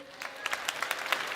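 Live music audience clapping after a song, a sparse scatter of distinct hand claps at medium distance with some voices mixed in.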